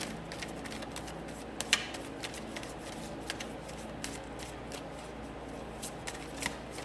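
Tarot and oracle cards are shuffled by hand, a steady soft papery riffling with small sharp flicks and snaps spread through the shuffle, close and fairly quiet, with no talking.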